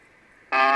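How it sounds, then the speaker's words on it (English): NATO STANAG radio data transmission heard over a 75-metre amateur band receiver: faint hiss and weak tone, then an abrupt loud buzzing multi-tone digital burst starting halfway through. "That is a transmission using STANAG,"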